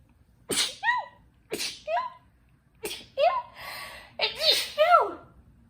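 A series of loud, close sneezes, several quick bursts in a row, each with a sharp breathy onset and a squeaky vocal tail.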